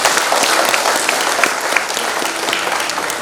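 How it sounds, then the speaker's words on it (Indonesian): Wedding guests applaud at a church blessing ceremony right after the first wedding kiss, a dense, steady wash of clapping filling the whole stretch at close range with no voices over it. "Yang boleh tepuk tangan juga."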